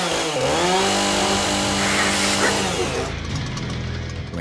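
Game chainsaw sound effect from the first-person shooter Sauerbraten, crossfaded between idle, attacking and sawing layers: a loud, steady buzzing engine whine that rises in pitch, then drops to a rougher idle near the end, with no voices.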